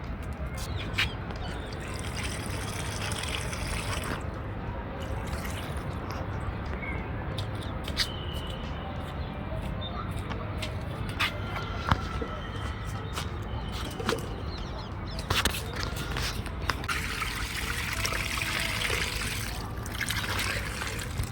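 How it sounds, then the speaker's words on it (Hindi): Potted spinach plants in a home kitchen garden are watered, making a steady, continuous trickle and splash that lasts throughout. Bird calls and occasional wing flaps sound nearby. "इसके बाद आ गया था नंबर पानी डालने का"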